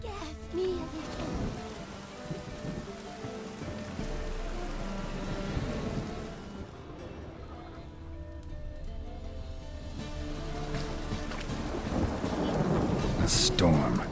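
A thunderstorm rages in the video game The Witcher 3: heavy rain pours throughout while deep thunder rolls and swells, growing louder toward the end, with brief voices mixed in.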